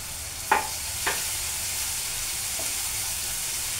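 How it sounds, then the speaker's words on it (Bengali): Onions and salt frying in a wok, a soft steady sizzle under a couple of sharp scraping stirs near the start, with a quieter clink later. "যেমনটি দেখতে পাচ্ছেন কড়াইয়ের মধ্যে আমি পেঁয়াজ এবং লবণ দিয়ে নিয়েছি পরিমাণ মতো"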